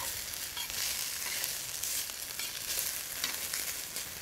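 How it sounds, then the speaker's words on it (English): Kidney beans with red peppers and seasonings fry in a stir-fry pan, giving a steady, dense sizzle and hiss that holds evenly throughout. "So let's get those beans cooked."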